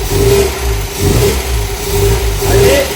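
An MGB GT engine running for the first time in 15 years after restoration, loud and close, rising and falling in repeated revs over a rough idle, with faint voices underneath.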